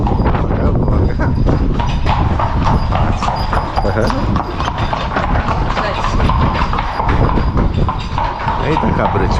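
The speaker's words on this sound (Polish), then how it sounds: "chyba konik tu będzie jechał, bo słyszę. O, patrz, jedzie tu w naszą stronę." A horse-drawn carriage clip-clops over the stone paving of a narrow street in Mdina, Malta, its steady hoofbeats loud and close from start to finish amid general street bustle.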